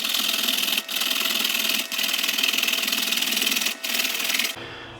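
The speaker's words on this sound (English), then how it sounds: "Next, you're going to grate the cucumber." Cucumber being grated for tzatziki, a steady rasping scrape repeated in three long strokes with brief pauses between them, close and fairly loud, no talking.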